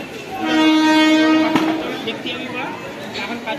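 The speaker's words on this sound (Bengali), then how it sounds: "ট্রেন ঢুকছে।" A Medinipur local train sounds a long, loud horn blast as it pulls into Bauria station, followed by rumbling and clatter of the arriving carriages. People are talking nearby.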